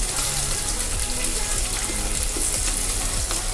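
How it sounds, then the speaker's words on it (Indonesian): Stir-frying aromatics inside an electric rice cooker with a wooden or plastic spatula, a steady dense sizzle with scraping and stirring clatter throughout, close and fairly loud. "Tumis seperti biasa sampai berbau harum ya, seperti ini."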